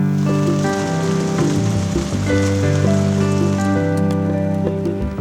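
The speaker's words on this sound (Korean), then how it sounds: "여름 내 메말랐던 산골 마을에 단비가 내립니다." Welcome rain falls on a mountain village after a dry summer, a steady close hiss and patter that runs throughout beneath soft tonal background music.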